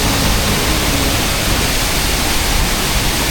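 Troll Falls in Canada roars with a dense, unbroken rush of falling water, steady and close with no voices over it.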